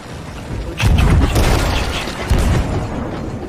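Cannon firing chain shot in a naval video game, two heavy deep booms about a second and a half apart, loud and close with rumbling tails.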